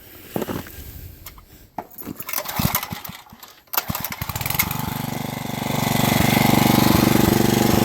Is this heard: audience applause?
no